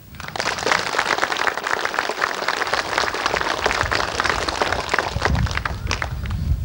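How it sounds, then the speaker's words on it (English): Sustained applause from a school audience welcoming visitors at a centenary celebration, a dense crackling of many hands that holds steadily at moderate loudness for several seconds. "Give them a clap"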